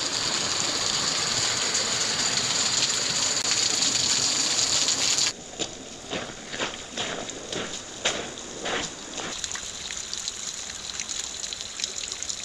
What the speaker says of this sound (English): The mini waterfall.